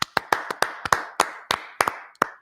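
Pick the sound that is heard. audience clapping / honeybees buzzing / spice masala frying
audience clapping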